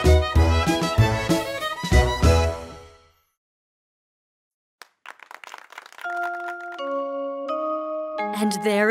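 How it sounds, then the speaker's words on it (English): Lively children's cartoon music cuts off into silence, then a few clicks lead into a bright bell chiming in sustained, ringing tones. "And there is the bell."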